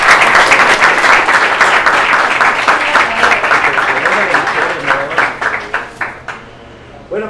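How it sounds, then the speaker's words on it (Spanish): Audience applause at a talk on architecture and city experiments, dense steady clapping that thins out and fades toward the end, with a few scattered claps remaining. "Un aplauso para Ciudad Creativa."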